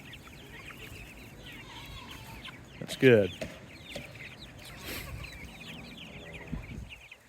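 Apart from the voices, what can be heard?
meat chickens clucking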